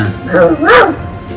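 A dog gives a couple of short, high yips and a whimpering bark close by, rising and falling over about a second before quiet returns.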